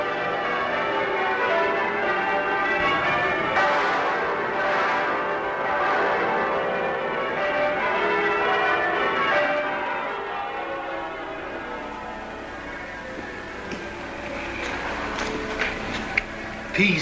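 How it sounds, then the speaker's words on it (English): Church bells ring out in celebration after a naval victory, a dense, sustained peal of overlapping strokes heard at a distance and fading toward the end, with no voices over them. "And now the bells begin to ring."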